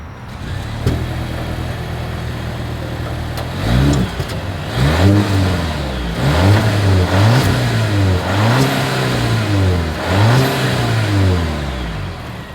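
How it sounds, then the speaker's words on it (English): A Volvo V60 Cross Country wagon with dual exhaust, from the 2025 model year, sits idling and then gets revved in a series of rising and falling blips, one after another. The sound is close and loud, with no talking. "As always, here is that exhaust clip."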